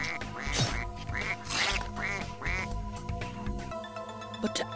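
A cartoon goose quacks in a run of five or six loud, nasal honks in a steady rhythm, then a brief musical tail follows, with no talking.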